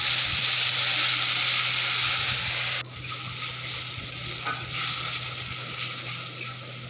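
A paste of onion, ginger, garlic, tomato and chili hits hot oil in a pan, giving a loud steady sizzle that suddenly drops to a softer frying hiss, close and continuous.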